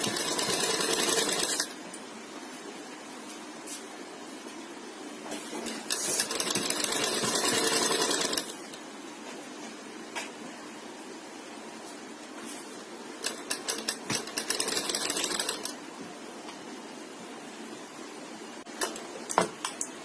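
Sewing machine stitching a sleeve hem in several bursts of rapid rattling clatter, some long and some short, separated by quieter pauses with faint handling clicks, close and without talk.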